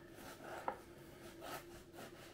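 A knife saws through a freshly baked, airy homemade loaf of bread, giving soft rasping strokes with a sharper crunch near the start, fairly quiet and close with no talking.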